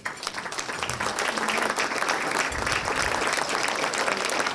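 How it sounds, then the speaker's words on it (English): At a chamber of commerce awards dinner, an audience applauds the Green Business of the Year winner with full, sustained clapping that swells and holds steady. "Please give them a round of applause."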